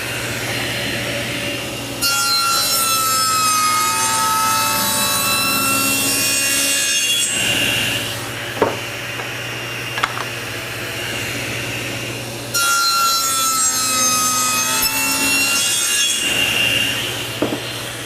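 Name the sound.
saw blade cutting wood mating piece with miter gauge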